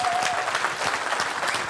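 A FOSDEM 2017 conference audience applauds a speaker with a dense, even burst of clapping from many hands that fills the hall briefly.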